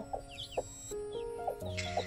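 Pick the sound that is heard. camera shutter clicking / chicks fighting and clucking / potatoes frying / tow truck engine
chicks fighting and clucking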